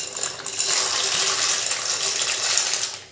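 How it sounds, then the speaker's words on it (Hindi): Pasta dropped into a pot of boiling water salted and oiled for a masala pasta recipe, giving a close, steady rattling clatter with a watery wash that lasts about three seconds, no talk. "उबले हुए पानी में हम डालेंगे अपना पास्ता।"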